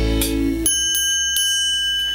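A triangle is struck a few times during a preschool rock-and-roll rhythm song. Each strike gives a bright, sustained metallic ring that lingers between hits, with no voices over it.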